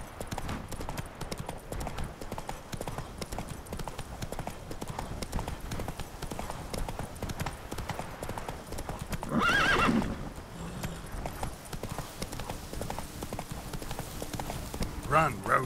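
Roach the horse in Witcher 3 gallops with steady clip-clop hoofbeats and neighs twice, once mid-run and again near the end, under ongoing game sound and a speaking voice.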